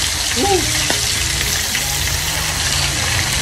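Bullet tuna (tulingan) fries in hot oil, giving a loud, steady, close sizzle and crackle throughout, with a brief voice heard faintly under it.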